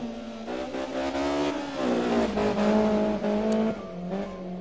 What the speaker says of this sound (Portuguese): É bonito o som da BMW, né?